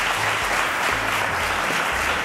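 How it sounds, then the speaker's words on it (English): A studio audience at a televised quiz show claps steadily and loudly throughout, a dense continuous wash of applause with no pauses. "Round of applause, guys."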